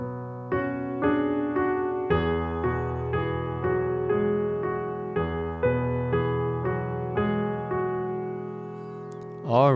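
Solo piano plays a passage: a steady series of struck chords and repeated notes with sustained low harmony, evenly paced and close, ending in a brief bright flourish.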